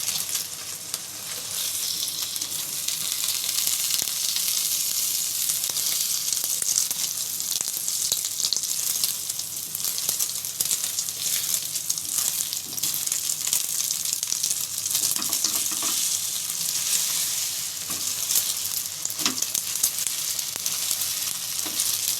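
Eggs fry in oil in a pan for an omelette, with a dense, continuous sizzle and crackle that stays close and fairly loud, along with a few faint clinks of utensils.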